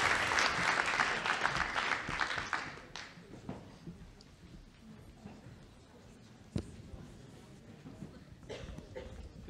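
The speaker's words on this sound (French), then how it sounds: "je vous invite à applaudir nos panélistes" Audience applause for panelists at a building and climate-action forum, strong for about three seconds and then thinning to scattered claps and room noise, with some faint talk.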